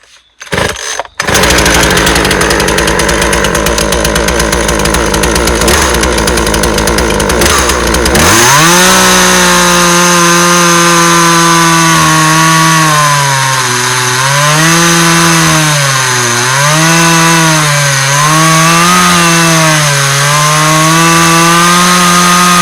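A Husqvarna 136 chainsaw is pull-started cold, catching after a few rough cranks and then running loud and close, its engine note rising and dipping as the throttle is blipped repeatedly over a steady idle.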